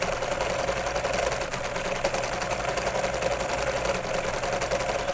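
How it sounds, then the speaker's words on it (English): A home sewing machine runs steadily, stitching around a tee shirt being taken in to fit and passing over the pins holding the fabric, with a continuous fast mechanical whir and needle chatter throughout and no talking. "My machine will sew over the pins."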